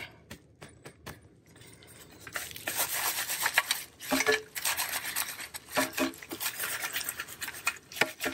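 Hands pack dirt around a trap pan outdoors, scraping and rubbing gritty soil in repeated close strokes with small clinks of metal.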